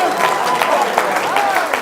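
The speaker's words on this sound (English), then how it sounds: "Give the old man a round of applause." An audience at a motivational speaking event breaks into sustained applause, a dense wash of many hands clapping with voices talking and calling out over it.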